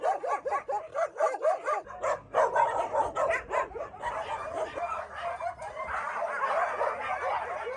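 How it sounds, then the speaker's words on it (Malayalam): Many dogs bark continuously at a shelter for abandoned stray dogs in Umm Al Quwain, with overlapping yips and barks near and far forming a dense, restless chorus throughout. "ഉപേക്ഷിക്കപ്പെട്ട നായ്ക്കൾക്കായുള്ള ഉമൽഖയനിലെ അഭയ കേന്ദ്രമാണിത്"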